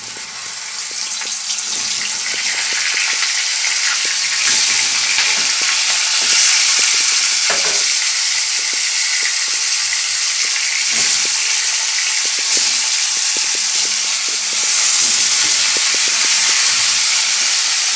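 Cauliflower florets frying in hot oil for a fulkopi roast, a continuous dense sizzle and hiss holding steady for the whole stretch, close and loud, with occasional stirring clicks and no voices.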